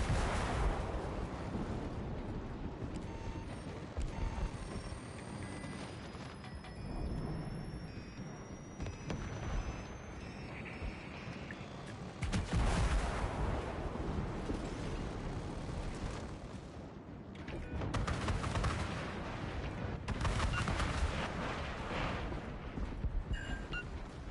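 Warship guns fire repeatedly in World of Warships Legends, heavy booms and blasts rolling over a rumbling battle backdrop, with several loud bursts clustered around the middle and later stretches.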